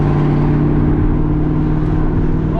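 A straight-piped 2001 Cobra's exhaust revs hard and loud up close, a dense, raspy, continuous engine roar holding steady throughout with no voices over it.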